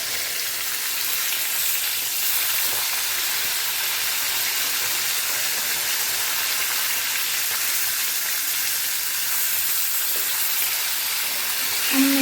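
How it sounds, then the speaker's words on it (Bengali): Small dhela fish frying in a pan, a continuous bright sizzle and hiss of hot oil that stays steady and fairly loud throughout, with no talking. "এদিকে ভাত ফুটছে, এদিকে মাছ ভাজা চলছে"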